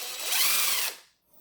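A cordless drill fitted with a DeWalt or Milwaukee 1/4-inch hex angle adapter whirs at high speed for just under a second, close and loud, then winds down abruptly into near silence.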